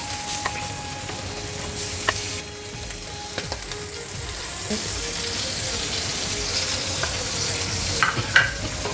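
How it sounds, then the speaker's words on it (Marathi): Bangda (mackerel) frying on a tava, Koli style, giving a continuous crackling sizzle with scattered pops and a few sharp clinks of a utensil against the pan, close and moderately loud. "अशा प्रकारे आपला हा बांगडा फ्राय व्यवस्थित फ्राय झालेला आहे"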